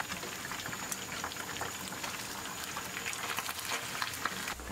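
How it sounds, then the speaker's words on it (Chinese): Fish deep frying in oil until golden for sweet and sour fish, a dense, steady bubbling hiss with scattered crackles, close and continuous, with no talking. "最后把鱼表面炸至金黄的时候"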